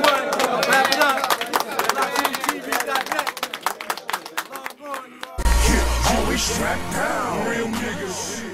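An audience claps in dense, rapid bursts after a rap battle round while a voice talks over it, then the clapping cuts off into louder talk and background sound.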